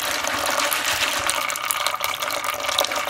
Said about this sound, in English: I'm going to fill this up with water and let them soak for a few hours before we cook them.